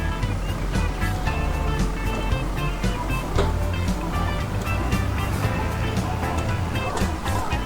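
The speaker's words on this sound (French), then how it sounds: "avec la magnifique benne Josquin et le tracteur Valtra" A Valtra tractor pulling a Josquin grain trailer drives steadily, its engine a continuous low rumble with rattling and clanking from the trailer under wind noise, loud and close throughout.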